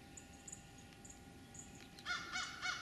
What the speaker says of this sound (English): do you hear the crow?